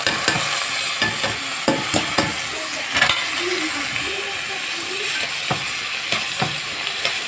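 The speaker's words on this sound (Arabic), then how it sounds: "هنقلبه كده شويه بقى بالشعريه كده" Vermicelli frying in ghee while a utensil stirs it, with a steady sizzle broken by repeated scraping strokes against the pan, close and fairly loud, no talking.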